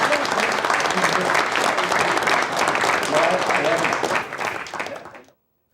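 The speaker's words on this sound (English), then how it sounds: "I think a big round of applause." A crowd claps steadily in dense, sustained applause for several seconds before it thins out and stops abruptly.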